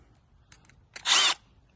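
A power drill bores holes to fit a radio dash mount in a 2004-06 Toyota Tundra or 2001-07 Sequoia. It gives one short, fairly quiet whir after a few light taps, with no talk.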